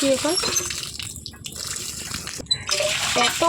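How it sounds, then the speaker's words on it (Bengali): Water splashes and pours while muddy feet are washed outdoors near a field, a close, loud running and sloshing sound. Talking is heard at the start and end. "এত কাদা পুরো পাটা ভালো করে ধুয়ে নিচ্ছি"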